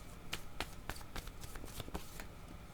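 A deck of tarot cards is cut and handled during a reading, giving a series of sharp, papery card snaps and flicks spaced through the clip at close range, with no talk over them.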